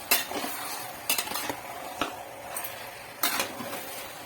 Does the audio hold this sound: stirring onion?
yes